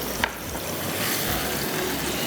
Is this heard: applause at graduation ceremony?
no